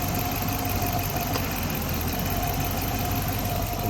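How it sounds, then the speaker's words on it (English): On a Dodge Charger 5.7, the A/C compressor engages under a steady engine idle, adding a constant mechanical hum and whir close by with no talking. "Compressor kicked on."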